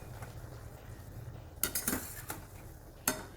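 Stir-fried bean curd skin with vegetables is tossed in a pan, with a soft background sizzle broken by several sharp metallic clinks and scrapes of a utensil against the pan in an irregular rhythm near the end.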